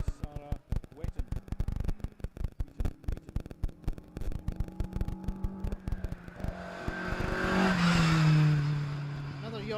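A Ford Escort rally car crewed from Yorkshire runs a special stage at Craik, its engine building from faint, clattering approach into a louder rising roar as it passes, with commentary talk underneath.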